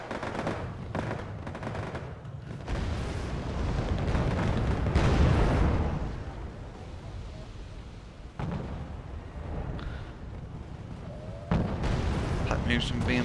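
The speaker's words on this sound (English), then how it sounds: "Napalm being dropped." Napalm strike explosions in the Wargame AirLand Battle video game, with heavy rumbling blasts and crackling fire building and swelling loud, then continuing as dense battle noise with a sharp burst near the end.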